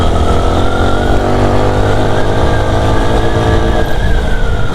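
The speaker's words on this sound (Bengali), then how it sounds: "সবার বাইকের স্পিড মনে হয় 80-90, এত ফাস্ট চালাইতেছে বাইক" Several motorcycles speeding along a hilly mountain road at night, a loud continuous engine drone with rising revs, heard from among the riders.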